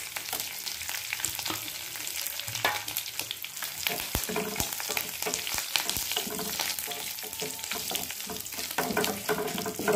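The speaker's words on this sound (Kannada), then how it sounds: "ಈಗ ನಾನು ಇದಕ್ಕೆ ಒಗ್ಗರಣೆ ಹಾಕ್ಕೊಳ್ತಾ ಇದ್ದೀನಿ" Mustard seeds and curry leaves sizzle and crackle in hot oil as a tempering for peanut chutney, a continuous close frying hiss punctuated by sharp pops and a few stirring clinks, with no talking.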